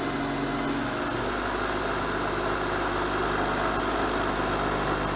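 Steady mechanical hum and drone of a wood lathe spinning up while turning a quilter's seam roller, close and continuous with a faint rising whine and no voices.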